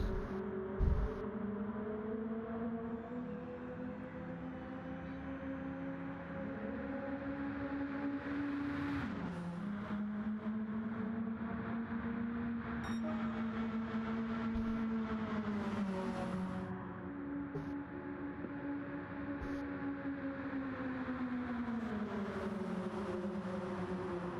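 A four-car pack of GT race cars roars down the Daytona back straightaway, engines droning loud and steady with sustained high-revving harmonics that shift pitch as the cars run close together.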